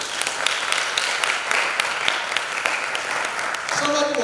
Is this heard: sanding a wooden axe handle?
no